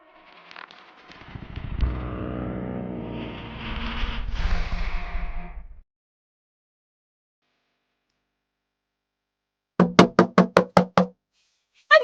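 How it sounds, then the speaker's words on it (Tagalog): Rapid series of about six loud knocks on a house door, hard and close, following a long rumbling noise and a stretch of silence, with another knock starting at the end. "Dahan-dahan naman sa pagkatok!"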